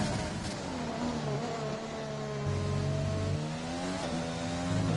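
An F1 car engine in the F1 2020 video game, racing at the Brazil round on medium tires, whines loudly and continuously as it revs and shifts through gears during a lap.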